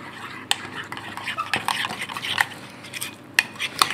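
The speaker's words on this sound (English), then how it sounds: "I'm going to give this a good mix around" Coriander and lime zest are stirred into a sauce with a spoon, producing close, irregular scraping and clinking strokes against the bowl, with sharper knocks now and then.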